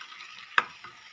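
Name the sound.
stirring eggplant curry in a pan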